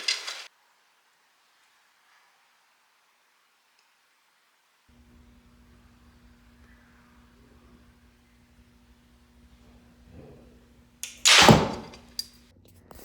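A sharp, loud impact thunks near the end after a long quiet stretch with faint background hum, an arrow striking a pig-shaped target on a steep downward angle.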